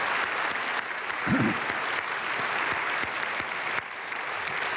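Congregation at an early-morning prayer service in a church claps in a steady, moderately loud burst of applause, with a brief voice murmuring partway through.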